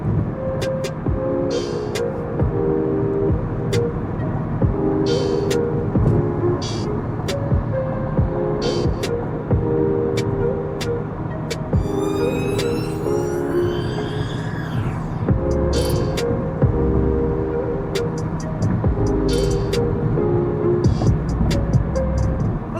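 Music plays through the Bowers & Wilkins sound system of a McLaren 750S Spider supercar, a steady patterned melody running continuously beneath constant road noise and engine hum while driving.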